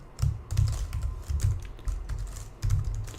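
Rapid clacking keystrokes on a computer keyboard while typing code, close and clear, in quick bursts of several keys with brief pauses between.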